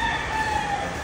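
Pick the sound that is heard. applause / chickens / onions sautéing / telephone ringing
chickens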